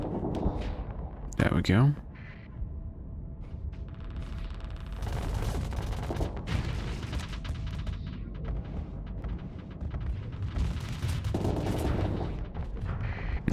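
Ship weapons firing in a space battle against the Hegemony AI in a video game, bursts of booming and crackling shots in clusters amid a dense mechanical din, with someone speaking briefly near the start.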